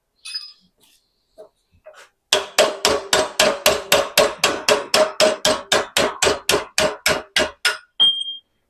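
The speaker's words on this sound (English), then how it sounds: "I smashed this with a hammer" A rapid run of about twenty sharp, loud hammer blows on metal, evenly spaced and ringing, after a few faint knocks.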